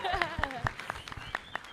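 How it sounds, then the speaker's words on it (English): A conference audience claps for a speaker, sparse, fairly evenly spaced claps that sound near and moderately loud, with a voice heard over the start. "A round of applause for me and for yourself."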